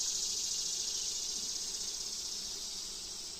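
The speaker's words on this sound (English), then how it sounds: "There's a lot of bees on this frame." Honey bees swarm over a frame pulled from a hive during feeding and inspection, making a steady, continuous buzzing drone with a hissy edge. It fades slightly near the end, and no one speaks.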